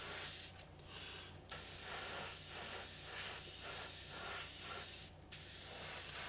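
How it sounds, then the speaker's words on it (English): An airbrush sprays paint lightly onto a model P-51D Mustang, its soft hiss rising and falling as the trigger is worked, with two brief stronger bursts of air and fainter pulsing sprays between, close and quiet. "the actual airbrush struggling just a little bit"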